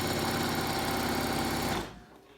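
A sewing machine stitches a reusable fabric mask, running with a steady rapid mechanical rhythm up close for about two seconds before stopping abruptly.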